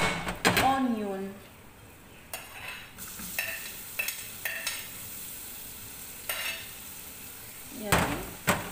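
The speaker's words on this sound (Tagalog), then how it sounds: "Ipa-brown muna natin yung ating garlic." Chopped garlic and onion sizzle in a pan while a utensil scrapes and clanks against the metal in irregular bursts, the frying hiss steady underneath and a voice talking over parts of it.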